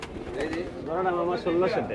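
Pigeons coo in soft, repeated bursts, close by at a pigeon market in Bangladesh, with a murmur of voices in the background.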